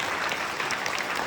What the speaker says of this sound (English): I would say a huge round of applause to all the participants.